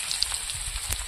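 Dry chilli, chopped ginger and bay leaves fry in hot oil, giving a close, steady hiss and crackle with small pops throughout.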